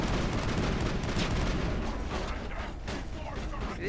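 Dense gunfire in the video game Mass Effect during a firefight on Asteroid X57, a continuous rattle of rapid shots with noisy bursts filling the whole few seconds, loud and close.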